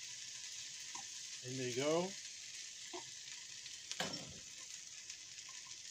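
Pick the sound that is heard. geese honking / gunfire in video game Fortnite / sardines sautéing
sardines sautéing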